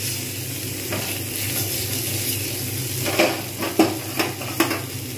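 Spiced chicken sizzles over a low flame while a utensil stirs it, with steady frying hiss and a run of sharp scraping clacks near the end.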